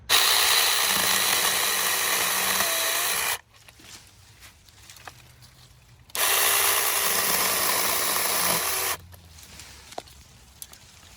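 A mini chainsaw cuts through a small half-inch tree in two loud, buzzing bursts of about three seconds each. Quiet pauses with faint rustling fall between the bursts.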